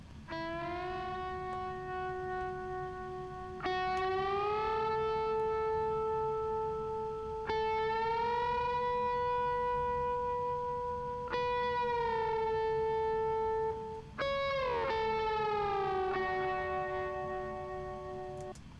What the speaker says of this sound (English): in that second verse, I have this slide guitar part